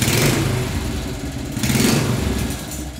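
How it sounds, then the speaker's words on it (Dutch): A big single-cylinder motorcycle engine revs with a firm, thumping exhaust, loud and close, swelling and easing again across a few seconds with no talking. "vooral dikke 1-pitters, 1 cilinders met een lekkere ferme klapperuit, dat vind ik machtig mooi"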